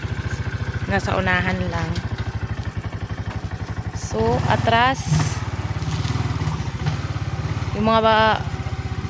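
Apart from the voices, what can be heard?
motorcycle engine running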